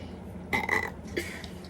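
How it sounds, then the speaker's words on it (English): A single short burp, fairly close and moderately loud, followed by a smaller second belch, against a quiet room background with no talking. "That's why I burped."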